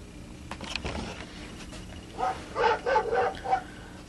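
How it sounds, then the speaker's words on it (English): A few dogs bark in a short burst of yips and barks after a quieter stretch with faint knocks, fairly close. "we're gonna do dogs barking"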